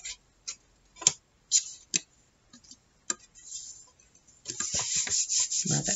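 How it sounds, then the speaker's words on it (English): Paper rubbed flat by hand while making an envelope junk journal, heard as scattered soft taps and brushing strokes that build into a steadier, closer rubbing toward the end. "Rub it flat."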